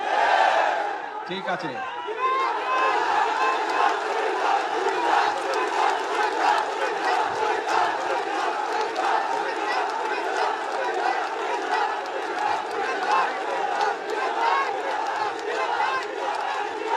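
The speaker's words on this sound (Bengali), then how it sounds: "এই দাবিটি যদি চিল্লালে লাভ হবে না ভাই" A large crowd shouts demands for a Comilla division at a political rally in Bangladesh, loud and sustained chanting close by for the whole stretch, with one voice speaking briefly at the start.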